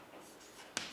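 Chalk or marker scrapes faintly across a classroom board in soft, quiet strokes, ending in one sharp tap.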